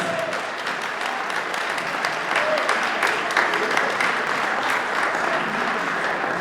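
Audience applause at an Oberkrainer folk music Advent morning concert, a broad, continuous wash of many hands clapping that holds steady throughout, moderately loud with a faint voice underneath.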